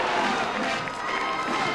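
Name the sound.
crowd cheering wildly at the Rose Parade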